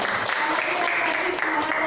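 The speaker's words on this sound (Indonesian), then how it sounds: "beri tepuk tangannya" Audience applause at a teachers' training session closing, a steady dense clapping that fills the short moment at moderate level without pause.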